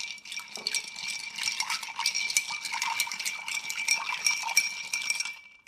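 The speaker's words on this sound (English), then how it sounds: "Now I'm going to give this a nice," A Monte Carlo cocktail with aromatic bitters is stirred over ice, a steady close rattle and clink of ice against glass and spoon running for several seconds before stopping.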